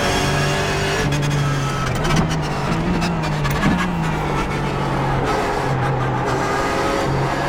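Race car engine in the iRacing sim at Brands Hatch on a warm-up lap, holding a steady, continuous drone with slight pitch shifts as the car cruises at an even pace throughout.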